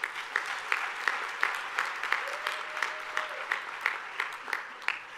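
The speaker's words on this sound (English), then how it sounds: "hearty round of applause." Audience at a university welcome day gives a round of applause: a steady, moderately loud patter of many hands clapping, with a faint voice underneath partway through.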